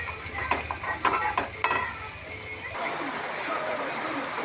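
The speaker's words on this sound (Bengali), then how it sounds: "ভাজা হয়ে গেছে কলমি শাক ভাজা চিংড়ি দিয়ে" Water spinach greens frying with shrimp in a pan, heard as a close sizzle with a few sharp utensil knocks early on, then a steadier hiss of frying. Background noise and possible faint speech sit underneath.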